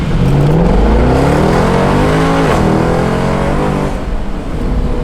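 A tuned Mercedes-AMG C63 W204 pulls hard up to 60 km/h on a street, its loud V8 roar climbing through the revs with a brief dip around a gear change, up close and without talk.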